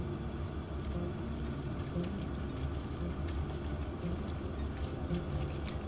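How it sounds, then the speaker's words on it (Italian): Starchy pasta cooking water is poured into a pan of cacio e pepe, making a steady, close splashing and gurgling wash that continues without a break. "aggiungiamo ancora un po' di acqua di cottura"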